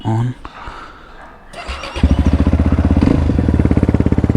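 After a short spoken moment and some shuffling, a motorcycle engine cranks and catches, settling into a loud, rapid, rhythmic idle close by.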